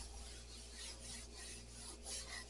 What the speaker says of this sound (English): Sandpaper will make this a lot easier.